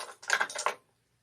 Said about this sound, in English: cut the burrs off my zipper tape